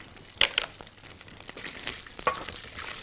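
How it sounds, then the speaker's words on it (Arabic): Beef fat dropped into a hot pan sizzles and crackles steadily, close up, with a couple of sharper pops near the start and no voices. "وهبدا ان انا انزل حته الدهون اللي جايه مع اللحمه"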